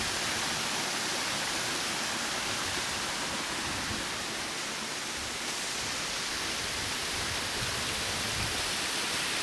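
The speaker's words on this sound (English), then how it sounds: "just the sound of the water hitting the rock there" Water pouring steadily over rocks in a Japanese garden, a continuous broadband rushing splash that stays even and close throughout.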